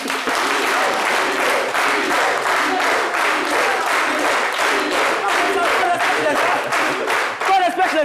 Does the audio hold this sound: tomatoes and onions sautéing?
no